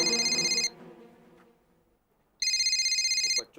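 A telephone rings in two loud, shrill electronic trill bursts with a quiet gap between them, in an indoor scene from a TV sitcom episode.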